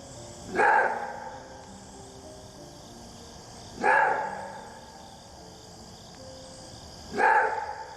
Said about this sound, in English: they have a like a bark, pretty much. It's called roar barking.